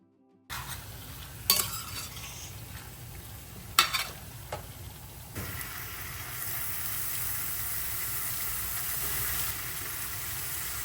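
Chicken with spices is stirred and sautéed in a pan, with a steady sizzle and frying crackle plus a few sharp scrapes and clinks of a utensil against the pan, close up and alone with no talking.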